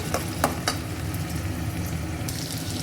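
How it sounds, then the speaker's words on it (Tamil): Masala sautéing in hot oil in a pan, a steady dense sizzle with a few sharp stirring scrapes near the start, loud and close with no talking. "இது நல்லா அப்படியே கொஞ்சம் நேரம் வதக்கி எண்ணெய் பிரிஞ்சு வர அளவுக்கு வதக்கலாம்"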